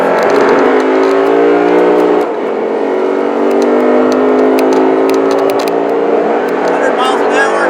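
A Lexus RC accelerating hard on a race track, engine note climbing loudly through the gears with a brief dip at a shift, then rising again toward about 100 mph, with a driver talking over it.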